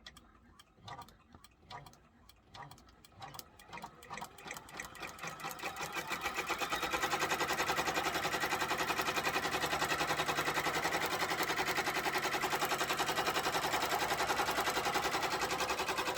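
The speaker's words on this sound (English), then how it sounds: "today we are going to be using my Brother 6 needle PR600 to do this in the hoop project" A Brother PR600 six-needle embroidery machine sewing a placement stitch for an in-the-hoop project, starting with slow separate clicks that speed up into a fast, steady mechanical chatter, close but fairly soft.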